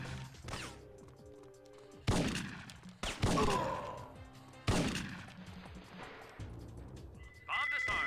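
Shotgun blasts in a PlayStation Classic shooter game, several loud, booming shots spaced a second or two apart with ringing tails, mixed with game effects and occasional voices.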